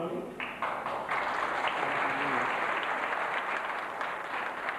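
Sustained audience applause at a film awards ceremony, a dense wash of many hands clapping steadily throughout, fairly loud and continuous with no clear talk over it.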